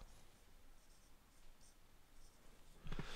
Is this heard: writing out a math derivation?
yes